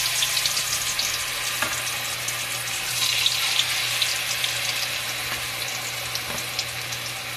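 Tofu frying in hot oil, a steady close sizzle and hiss with faint spatters and an occasional soft knock, a low hum underneath and no voices throughout.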